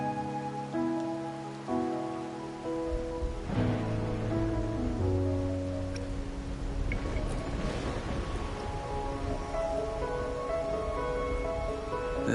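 Rain in the video game Wuthering Waves patters steadily on surfaces, a continuous hiss that grows denser midway, mixed under sustained musical chords.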